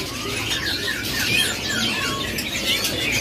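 A crowd of caged birds at a bird shop kiosk, dense overlapping chirps, squawks and whistles, loud and continuous with no talking.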